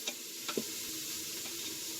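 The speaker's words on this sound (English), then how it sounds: "And then we'll just leave that on saute like she said. And let it do its thing. Get them nice and caramelized" Sliced and diced onions sautéing and caramelizing in an Instant Pot, with a steady, even sizzle and a couple of brief stirring clinks, no talking.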